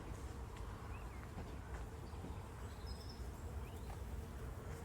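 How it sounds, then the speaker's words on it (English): Wasps buzzing around a canal boat moored near a water point, faint thin drones weaving in and out over a quiet outdoor background hum, no voices. "Oh yeah, they are wasps. They did sound like them"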